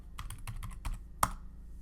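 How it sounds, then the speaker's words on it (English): Keys clacking on a computer keyboard while a word is typed into a Python Wordle game, a quick run of about seven close, crisp keystrokes ending in one sharper, louder tap. "let's just type in hello a few times so we can get the losing condition"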